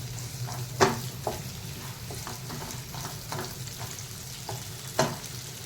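Chopped onion frying in a pan on the stove, a soft continuous sizzle broken by a few sharper scraping stirs, close and fairly quiet with no talking.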